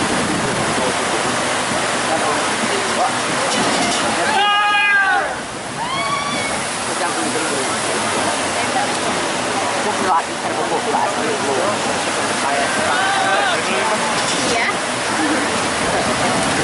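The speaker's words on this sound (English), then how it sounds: "on the log flume" Rushing water roars steadily around a log flume ride at Alton Towers, loud and close, with voices and shouts rising over the torrent.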